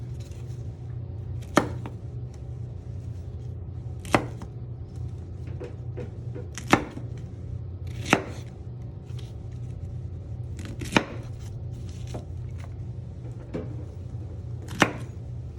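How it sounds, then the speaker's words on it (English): Brussels sprouts and other vegetables are chopped on a cutting board, a knife striking in sparse, irregular thuds over a low steady background hum, no talking. "Got the veggies all chopped up."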